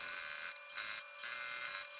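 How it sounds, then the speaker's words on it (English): A sewing machine stitching quilt pieces (backing, padding and front) runs in three short bursts of steady motor whir with brief pauses between, close and fairly quiet. "we're finally breaking out the sewing machine"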